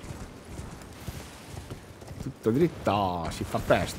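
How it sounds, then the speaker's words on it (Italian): A summoned horse in Elden Ring clip-clops in a steady, moderately loud hoof rhythm, and someone talks over the later part. "adesso chiamiamo il cavallo"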